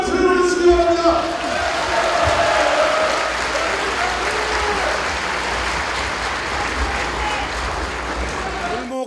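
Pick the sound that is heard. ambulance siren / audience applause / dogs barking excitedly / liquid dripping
audience applause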